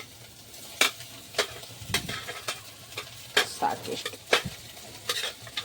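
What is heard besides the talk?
eggs and rice frying and being stirred in a pan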